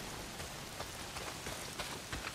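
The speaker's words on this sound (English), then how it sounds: "Well, not if it's pissing down rain." Heavy rain pours down in the video game Days Gone, a dense, loud, unbroken hiss of drops drumming on surfaces, with small spattering bursts and no voices over it.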